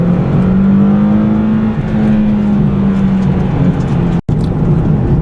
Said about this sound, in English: this engine is a bit crude and noisy